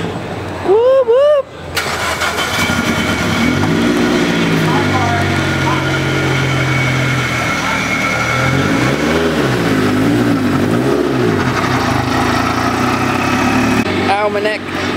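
Car engine at a Boxerfest car meet cranks, catches and idles, then revs up and down in several swells, loud and close, with people talking and cheering over it.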